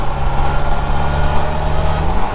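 A Polaris Slingshot three-wheeler's engine drones steadily from close by while driving, a low continuous hum with no voices over it.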